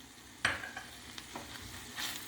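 Minced meat with chopped parsley is stirred in a pan, a few soft scraping strokes and light sizzling taps at a quiet level, spaced irregularly with no voices.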